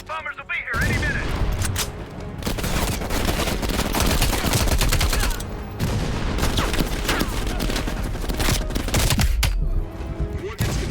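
Sustained machine gun fire in Call of Duty: Black Ops Cold War, dense rapid bursts with booming impacts running almost unbroken for about ten seconds, loud and close, after a brief quiet start.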